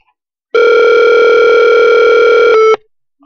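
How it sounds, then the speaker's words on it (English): Outgoing call ringback tone on a Skype call, a single loud steady electronic tone lasting about two seconds before cutting off, heard alone without talk. "Call him back. It's ringing."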